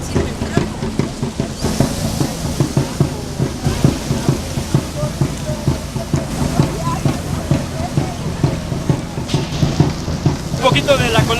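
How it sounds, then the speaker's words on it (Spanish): Heavy rain falls steadily and close by during an outdoor bicycle tour, a dense continuous hiss with scattered patters and no clear voices. "ya nos agarró la lluvia y vamos saliendo"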